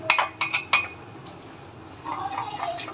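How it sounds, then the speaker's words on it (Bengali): A spoon knocks against a bowl three times in quick succession, clinking sharply up close while mixing cornflour and cooking oil, followed by softer scraping and stirring. "আর 2 চামচ কর্নফ্লাওয়ার নিয়ে আমি ভালোভাবে মিশিয়ে নিচ্ছি।"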